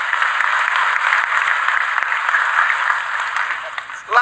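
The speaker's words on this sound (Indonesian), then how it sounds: "Tepuk tangan untuk beliau" An audience at a religious question-and-answer gathering gives a round of steady, moderately loud applause, a continuous patter of clapping that fades as a voice begins speaking at the very end.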